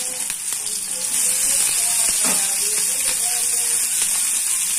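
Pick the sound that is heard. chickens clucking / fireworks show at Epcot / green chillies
green chillies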